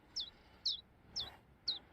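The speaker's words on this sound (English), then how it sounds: "The little brats are hungry. Hello, you little, birds." Small birds chirp in A New Beginning: Final Cut, five short high, bright calls, each marking a hungry nestling's cry, coming at a steady rhythm of about two per second, moderately close and fairly faint over a soft background.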